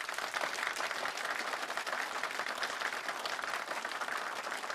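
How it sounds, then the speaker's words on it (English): Steady applause from a large audience at a state bar association House of Delegates meeting, dense continuous clapping from a crowd filling the whole stretch, moderately distant and with no speech. "Round of applause."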